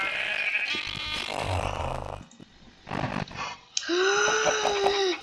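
Sheep in Minecraft bleating in several loud, wavering cries separated by short gaps, with a few grunting, wheezy sounds between them.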